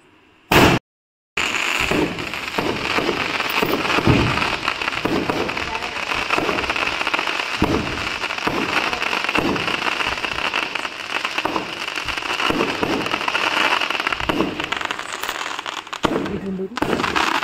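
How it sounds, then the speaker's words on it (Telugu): Large onion bomb firecrackers bursting during Diwali celebrations, a long run of sharp cracks and pops over constant crackling, with a few louder bangs and voices in the background. "అతిపెద్ద ఉల్లిగడ్డ బాంబు మా డాడీ వేస్తాడు"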